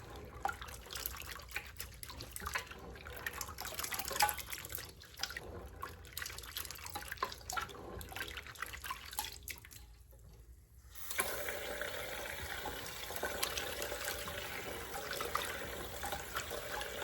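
Water running from a tap while hominy, corn treated with lye, is rinsed and rubbed by hand, a steady faint splashing and trickling stream that briefly drops off before flowing harder again, with no talk.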